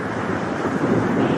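Strong gusting wind at an airport, gusting around 28 knots, roars as a dense, continuous rush of noise buffeting the microphone, loud and unbroken with no voices.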